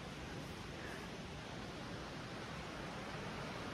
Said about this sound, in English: Hope you can hear the creek